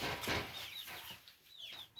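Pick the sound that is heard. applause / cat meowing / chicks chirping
chicks chirping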